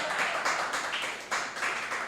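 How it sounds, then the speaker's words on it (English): An audience claps in dense bursts, with bright, crisp applause swelling and dipping in several waves, close and fairly loud, with no voices on top. "The easiest applause you'll ever get in your life"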